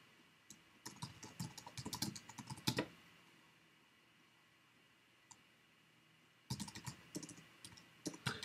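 Computer keyboard typing in two quick bursts of clicky keystrokes, separated by a few quiet seconds with a single isolated tap, close and fairly soft with no voices.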